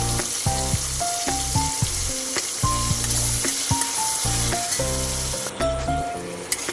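Chopped onion fries in hot oil with a dense, steady sizzle, close and fairly loud throughout, with occasional faint stirring and no talking.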